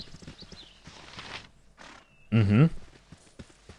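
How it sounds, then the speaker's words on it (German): A horse in the Baldur's Gate video game gives one loud whinny over a soft clip-clop of hooves and ambient game sound, while a man briefly murmurs. "Und ein Pferd."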